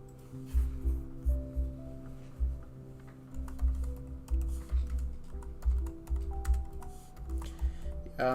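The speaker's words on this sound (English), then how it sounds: "I'm just typing out some Happy New Year message" Computer keyboard typing comes in bursts of quick, close key clatter separated by short pauses, with a faint steady background hum and no speech.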